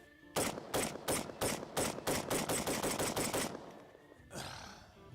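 Rapid bursts of unsuppressed 5.56 M16 rifle fire, loud and close, with about a dozen sharp shots in quick succession followed by a fading echo and a brief rustle.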